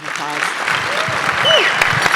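Applause from an audience at a youth careers expo breakfast, steady clapping that swells slightly toward the end, with scattered voices and a few whoops mixed in.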